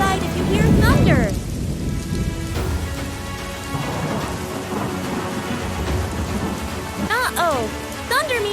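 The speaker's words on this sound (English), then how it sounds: "Uh-oh, thunder means lightning's nearby." Heavy rain pours steadily while a loud rumble of thunder rolls up close at the start, with chirping birdlike tones rising and falling over the downpour.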